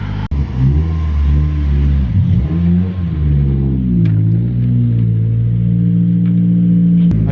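A car engine revs as the car pulls out of a drive, a loud, close rumble rising and falling in pitch with throttle changes and a sharp click near the start.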